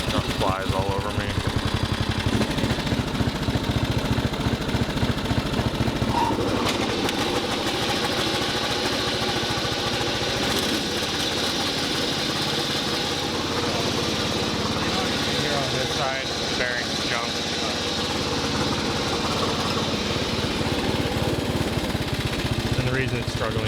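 A Craftsman lawn tractor's Briggs engine runs steadily and loudly throughout, its rough mid-pitched drone a little uneven as though not at full RPM, with someone talking over it.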